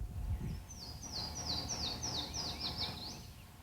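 A bird sings a rapid series of repeated high chirps, moderately faint, against a low outdoor background hum by North Carolina's Neuse River.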